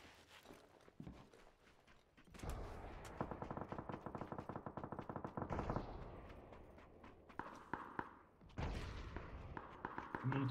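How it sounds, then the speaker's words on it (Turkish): Rapid bursts of heavy gunfire from a tank crack out in fast repeated volleys at middle distance, stopping and resuming twice in short strings of sharp reports. "Bunu tank sıkıyor galiba."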